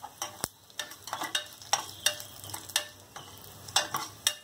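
Curry leaves crackle in hot oil with sliced red onions and dried red chillies for a peanut-stuffed brinjal curry, a low, quiet sizzle broken by a rhythmic series of sharp stirring taps and scrapes, close up with no talking.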